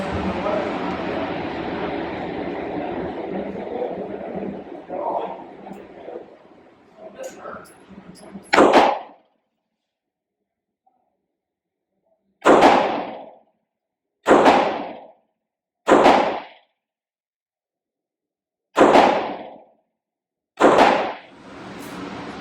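Six loud, sharp reports from a Chiappa Rhino 30DS revolver ring out one at a time at uneven intervals, each with a short echoing tail, after a stretch of muffled background noise and movement.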